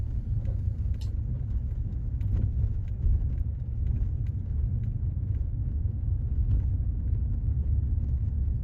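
A car rolls slowly along a narrow, bumpy road full of divots, giving a steady low rumble of engine and tyres with occasional faint knocks and rattles from the bouncing ride, close and continuous with no talking.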